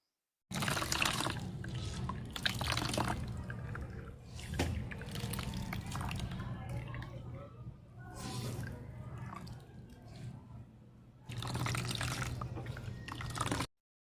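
Hands knead and squeeze grated coconut in water to press out coconut milk, giving wet squelching and sloshing in bursts, close and fairly faint.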